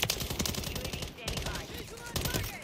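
Rapid automatic gunfire from the video game Modern Warfare 3 rattles in fast bursts, loud and close, with short gaps between volleys and a voice faintly underneath.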